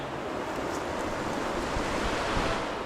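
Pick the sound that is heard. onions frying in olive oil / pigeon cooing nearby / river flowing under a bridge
river flowing under a bridge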